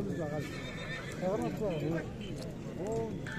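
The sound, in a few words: horse at a horse market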